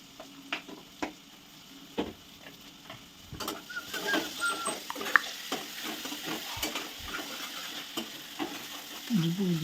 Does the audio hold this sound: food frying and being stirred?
yes